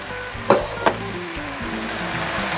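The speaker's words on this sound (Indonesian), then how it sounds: "Saya aduk-aduk sampai bumbunya ini mateng dan aromanya harum ya teman semua." Chopped garlic frying in a pan with sugar, ground pepper and mushroom stock, a steady soft sizzle broken by two sharp scrapes of stirring, cooked for a Central Javanese beef tongseng.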